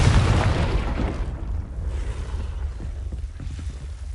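Confringo blasting curse going off in Hogwarts Legacy, a loud booming burst at the start that decays into a rumbling, crackling tail, with a few soft thuds near the end.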